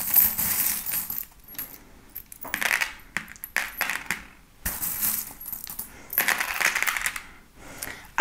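Small metal charms dropped and scattered onto a table during a fortune-telling reading, several bursts of light clinking and rattling, close and fairly quiet, with no talk.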